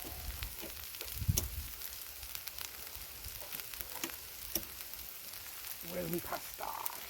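Water boils in a pot on a paraffin stove at a wild camp, a steady hiss and roiling bubble under a low roar, with a few sharp knocks and a brief muffled voice near the end.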